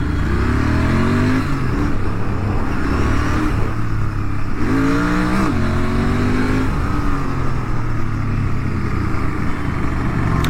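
A Royal Enfield Continental GT 650 motorcycle exhaust drones loudly and steadily while riding on a road, with the pitch rising and falling through gear changes and revs, and no talk over it.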